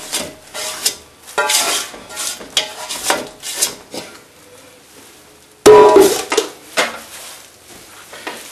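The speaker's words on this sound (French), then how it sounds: "Je vais mélanger viande et oignon." Blood sausage meat being mixed by hand with hot cooked onions in a bowl, repeated wet squelching and scraping strokes in an irregular rhythm, close and fairly loud, with a stronger burst of stirring near the end.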